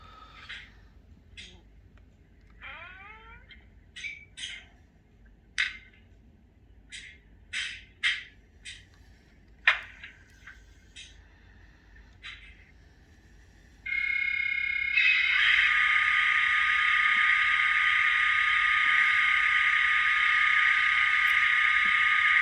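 Toy train electronic sound effects: a string of short chirps, beeps and warbling tones, then a loud, steady buzzing whistle that continues to the end.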